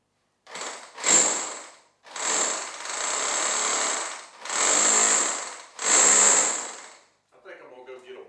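A power drill with a 1/2 inch bit bores through wood in five loud, whining bursts separated by brief pauses, each pass grinding steadily, followed by a short quieter rattle at the end.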